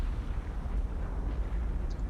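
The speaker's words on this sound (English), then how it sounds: "an explosion and fires at the rear of the ship will be simulated" A simulated explosion and fire at the rear of a warship in the naval game War on the Sea, heard as a sustained, dense rumbling roar with no clear single blast.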